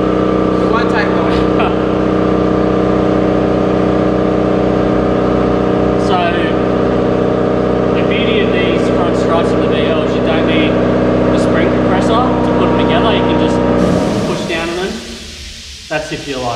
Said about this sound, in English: So we'll just shout so you can hear it over the compressor.